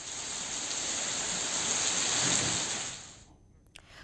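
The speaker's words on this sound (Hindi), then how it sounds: "चंपावत में रुक रुक कर हुई बारिश ने एक तरफ गर्मी से राहत दी है" Steady, dense rain falls in Champawat, Uttarakhand, with hail coming down along with it: a loud, even hiss that keeps up for about three seconds, then cuts off abruptly into near-silence with a brief faint knock.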